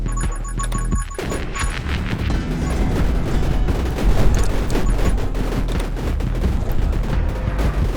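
Dense, continuous rattle of rapid gunfire from the gun glyph in 20 Minutes Till Dawn, mixed into a busy game soundscape of swarming bats, loud and unbroken throughout.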